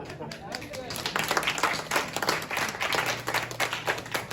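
During a library board meeting, a person claps with their feet, making a series of irregular thumping slaps close by. A voice talks over them almost throughout.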